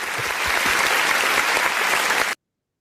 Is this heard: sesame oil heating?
no